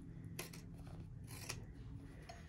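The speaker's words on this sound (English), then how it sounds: "take your pinking shears and sort of neaten up the edges" Pinking shears trim the edges of fabric for a no-sew hand warmer, giving a few faint, quiet snipping and rasping cuts close by.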